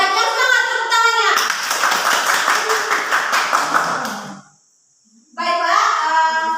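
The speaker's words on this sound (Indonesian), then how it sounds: "tepuk tangan untuk kelompok 2 yang sudah memaparkan hasil proyek." A classroom of children claps for group 2 after their project presentation, a dense burst of hand claps lasting about three seconds, then a sudden stop and a brief silence before a voice resumes speaking.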